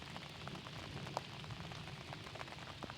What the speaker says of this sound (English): it's developed into like a proper rain